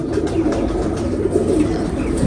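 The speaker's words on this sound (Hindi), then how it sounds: "ये बाप वो है बड़ा कबूतर" A large male breeding pigeon of the Surkha breed coos close by, a low, repeated throaty warble continuing steadily, with faint background rustle and no speech.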